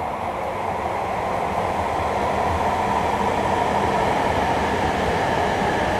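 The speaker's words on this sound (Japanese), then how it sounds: "柳子号がね、反対側のホームにやってきました" A train rumbles steadily and loudly as it arrives at the opposite platform of a station, a continuous broad roar with no voices.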